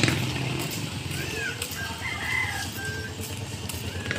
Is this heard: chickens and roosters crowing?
yes